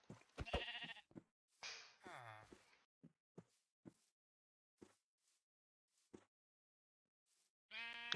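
Sheep in the Minecraft video game bleat in a few short, clear calls, mixed with sparse knocks and hits and scattered quiet pauses; a person talks at moments.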